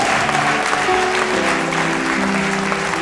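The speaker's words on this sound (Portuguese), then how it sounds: "Os convertidos, dá um aplauso ao Senhor aí." A church congregation applauds during a Portuguese-language sermon, steady clapping mixed with a sustained tone, probably music, throughout the short stretch.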